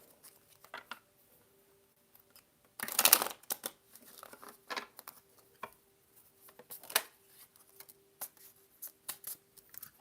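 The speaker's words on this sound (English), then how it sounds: "I need more room to shuffle." Quick bursts of tarot cards being riffled and flicked, one loud flurry then scattered softer shuffles and taps, close up with no talking.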